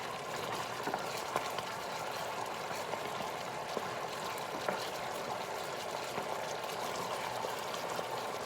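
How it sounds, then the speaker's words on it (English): A pot of rice boils on a stove, a soft, continuous bubbling and simmering with faint scattered pops, steady and fairly quiet throughout. "And so our rice is boiling."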